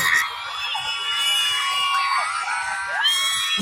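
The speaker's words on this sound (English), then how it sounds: "Thank you so much for all the noise, guys, the support." An air show crowd of spectators, many of them children, screams, whoops and cheers at a BMX show, high-pitched shouts rising and falling close by, swelling again near the end.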